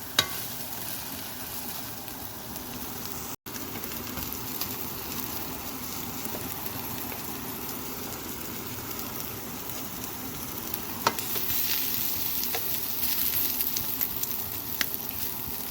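Egg and bacon frying in a pan with a bagel, a steady close sizzle and crackle that runs the whole time, with a brief dropout early on and a slightly busier spatter near the end.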